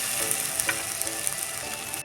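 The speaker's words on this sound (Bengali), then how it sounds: "দিয়ে আমি এইভাবে নেড়ে নিচ্ছি।" Spice paste frying and being stirred in a pan while cooking stuffed pointed gourd, a steady close sizzle with soft scraping of the spoon throughout, no talking.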